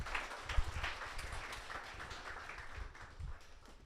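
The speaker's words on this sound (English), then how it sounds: "Can we have a round of applause for the mic stand for the evening?" An audience gives applause at a tech conference talk, a brief, moderately quiet burst of clapping that fades out over a few seconds.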